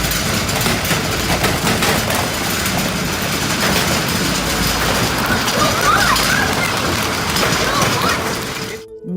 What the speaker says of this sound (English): Wow, that's incredible hail!